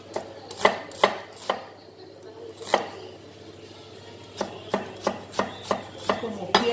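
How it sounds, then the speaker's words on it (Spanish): An onion being chopped with a knife on a board, about a dozen sharp close chops in irregular bursts with pauses between, no voices. "vamos a seguir con nuestra cebolla. Ustedes la pueden partir a la mitad."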